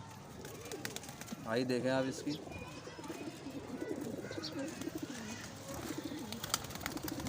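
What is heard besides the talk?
male high flyer pigeon cooing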